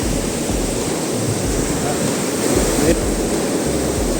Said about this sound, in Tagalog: yung ilog nila. Napaka clear. Crystal clear.